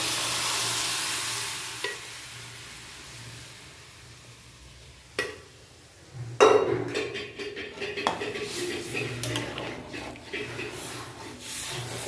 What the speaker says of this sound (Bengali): এইবার এটাকে ভালো করে নাড়াচাড়া নিয়ে নিচ্ছি।